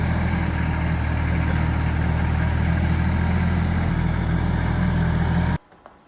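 A tractor engine idles loudly and steadily nearby as it is parked, a constant low mechanical drone that stops abruptly near the end, leaving near silence.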